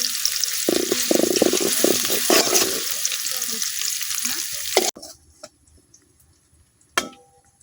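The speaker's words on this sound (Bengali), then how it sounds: "পেঁয়াজ রসুনটা কিছুক্ষণ ভাজা নেম" Chopped onion and garlic fry in hot oil in a wok, giving a loud steady sizzle with stirring scrapes for about five seconds, which then stops abruptly, leaving faint clinks and one short knock near the end.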